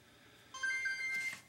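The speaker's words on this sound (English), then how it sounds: "Oh gosh, I'm getting a text message." A phone's text message notification rings out briefly over quiet game background, a short electronic tone pattern of a few sustained beeps lasting under a second, fairly faint.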